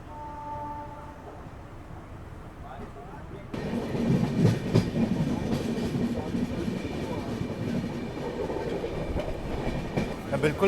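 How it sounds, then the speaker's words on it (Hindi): A passenger train running straight through Katni station without stopping, heard from on board: a quieter rolling hum suddenly swells into loud, close rumbling and rhythmic wheel clatter that continues steadily, with faint voices in the background. "ट्रेन कटनी को स्किप कर रही है।"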